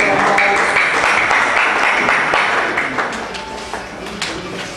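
Audience applause at an International Day of People Living with Disability event, a dense, steady wash of clapping that holds loud for most of the stretch and then thins slightly toward the end, with voices mixed in.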